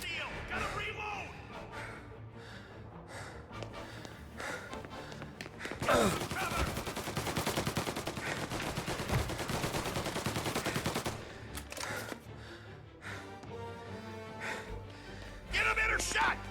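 Gunfire in a video game: rapid bursts of shots and an extended stretch of sustained automatic fire, moderately loud beneath a player shouting excitedly.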